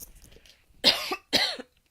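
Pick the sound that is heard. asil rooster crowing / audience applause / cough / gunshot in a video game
cough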